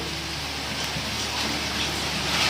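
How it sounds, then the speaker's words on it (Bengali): Semolina malpua fry in hot oil with a dense, steady, crackling sizzle that holds close and even throughout. "মালপোয়াগুলো কি সুন্দর দেখুন, একটু আমি লাল লাল করে ভেজে নেব"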